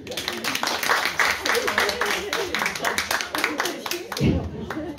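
A seated audience applauds at a literary conference event for women's day, dense steady clapping from many hands close by, fading into talk near the end.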